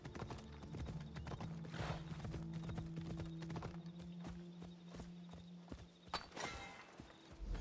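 Steady clip-clop of horse hooves at a walking pace in Assassin's Creed Odyssey, close and continuous, with a brief whinny and some game-like background tones.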